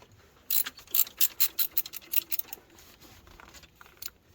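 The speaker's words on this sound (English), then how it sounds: "You do need a deep socket for this one, so I just raise that up a little." A ratchet wrench with a deep socket turning bolts on an alternator bracket, a close run of about a dozen quick clicking ratchet strokes in uneven rhythm, then a quieter stretch with faint clicks.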